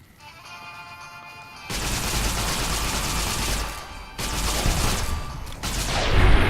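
Automatic gunfire from a Thompson-like submachine gun in Fallout New Vegas, loud sustained bursts of rapid shots with brief pauses between them, following a quieter opening.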